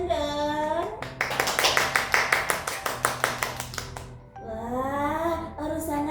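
A small group claps hands in a quick, steady rhythm for about three seconds on a children's radio show, with voices speaking just before and after.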